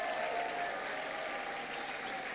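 A graduation ceremony audience claps and cheers in a hall, a steady wash of applause that holds for the whole stretch, with distant voices mixed in.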